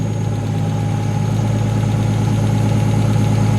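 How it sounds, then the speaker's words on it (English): A Nissan Skyline R33 with its RB25 engine idles steadily just after its first start following final assembly, a loud close even hum with a fine rapid pulse and no talk. "It's such a big difference in the way it sounds. That's crazy. It's never held idle this nice either."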